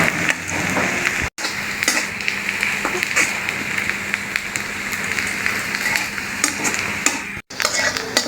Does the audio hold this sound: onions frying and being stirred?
yes